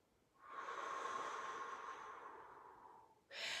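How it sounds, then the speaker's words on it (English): A single slow, steady exhalation through rounded lips during a calming breathing exercise, a soft airy hiss lasting about three seconds, close and alone, followed by a short sharper breath. "Breathe out."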